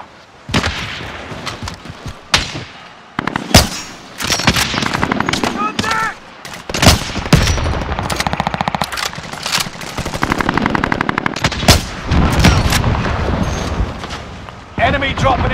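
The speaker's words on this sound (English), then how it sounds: "I'm taking fire here." Gunfire in Call of Duty: Modern Warfare, with loud close bursts of automatic weapons, single cracks and heavier blasts coming in irregular clusters, while voices speak over the fighting.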